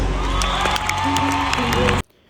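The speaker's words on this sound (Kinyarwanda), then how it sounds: "Abantu bahano tubahiriza amashyi cyane." A large concert crowd in an arena roars with cheering, whoops and applause. The sound is loud and continuous, with some shouting mixed in, and it cuts off abruptly near the end.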